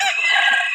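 Fighting rooster (ayam saung) at a market giving a loud, close, sustained crow that lasts through the whole short moment, with no talking over it.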